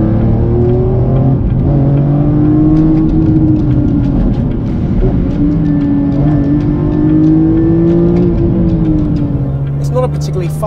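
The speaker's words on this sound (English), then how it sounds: "Listen to that carbon airbox and that raspy exhaust." A BMW-based Contempt concept car with a carbon airbox revs hard through a raspy exhaust, its loud, sustained engine note rising and falling with the throttle from close by.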